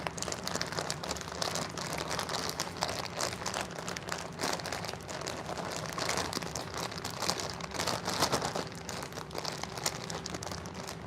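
A plastic bag is crinkled and its contents broken up by hand, giving dense, continuous crackling and crunching close by that keeps going with small bursts of louder rustling.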